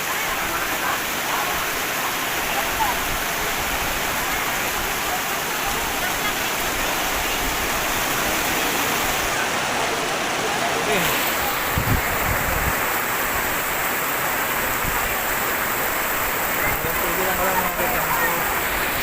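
Heavy rain pours steadily at a cemetery in the Philippines, a dense continuous hiss of downpour close by, with a brief shift in texture midway and no pause throughout.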